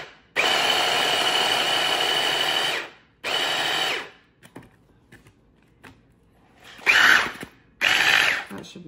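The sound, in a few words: blender whizzing shrimp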